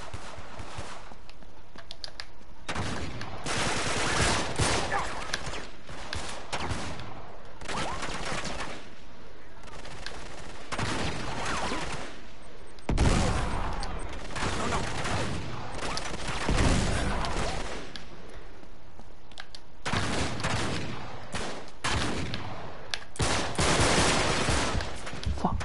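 A turret fires in Uncharted 3, giving long, loud rattling bursts of automatic fire broken by brief pauses and repeated steadily across the whole stretch, with faint voices underneath.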